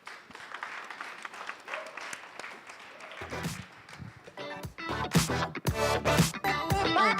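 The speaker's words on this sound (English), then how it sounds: "Another round of applause." Audience at a Nairobi startup summit applauds a presenter, scattered claps at first swelling into fuller, louder applause toward the end, with a voice briefly heard over the room.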